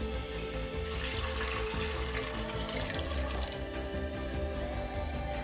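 Steady rush of water pouring continuously into a cooking pot of lentils for mutton dalcha, full and close, with no pauses or speech throughout.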